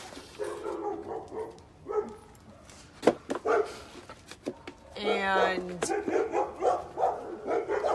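A dog on a leash barks in a few sharp bursts alongside whimpers and yips, close by, mixed with people talking and a brief higher whine in the middle.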